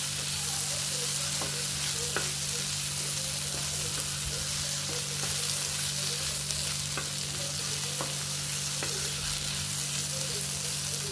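Paneer frying on a tava, a continuous close sizzle with occasional light clicks of a spatula stirring, steady and even throughout with a low hum underneath and no voices.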